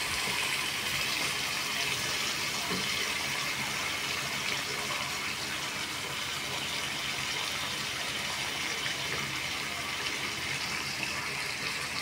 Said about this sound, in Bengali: দেখো এবার আমি এখানে এই জল দিয়ে দিচ্ছি